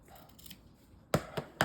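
Scissors snip three times in quick succession, sharp close cuts through small items being chopped in half, after a quiet indoor stretch with faint background rustle.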